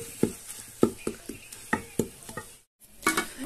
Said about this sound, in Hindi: इसे भी हमने जो है ना तड़के में ही भून लेना है 2 से 3 मिनट के लिए।